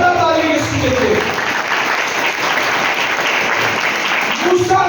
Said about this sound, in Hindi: जोरदार ताली यीशु के लिए।